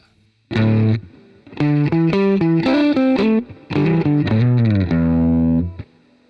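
A distorted electric guitar plays a short melodic phrase from a song's intro in even, straight rhythm, loud and close, with a brief pause mid-phrase and a sustained final note.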